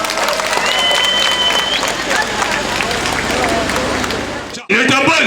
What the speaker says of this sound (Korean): 박수 한번 더 주십시오